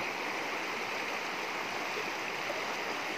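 Water flows continuously in a small creek used for bathing, on a path heading toward a mountain, a steady soft rushing babble with no voices.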